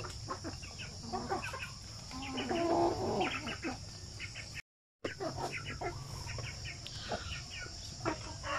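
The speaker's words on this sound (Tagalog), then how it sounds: "Mga manok na matatapang." Shamo aseel breeder hens cluck steadily on a farm, with more than one bird calling at once and an occasional rooster note.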